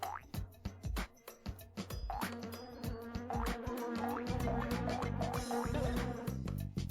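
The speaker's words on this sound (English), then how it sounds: "Okay, so the bees will fucking kill you." Bees in the Honeybee Hollow level of the PlayStation Frogger game give off busy, layered buzzing mixed with bouncy game sound effects and music, steady and fairly loud throughout.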